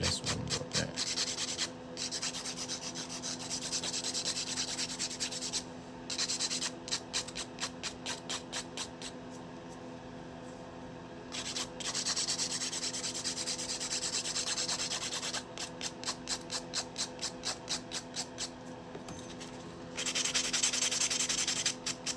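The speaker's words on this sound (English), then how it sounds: "So now we are going to run my hand file over this one a little bit." A hand file rasps over polygel nails in repeated close strokes, bursts of quick rhythmic scraping broken by short pauses, with no talk.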